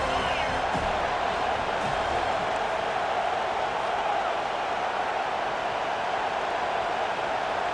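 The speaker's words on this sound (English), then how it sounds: "Third down, and this crowd is tearing the lid off this place." A stadium crowd roars steadily in EA Sports College Football 25 on a third down. The dense, constant wall of cheering and noise holds at full volume throughout.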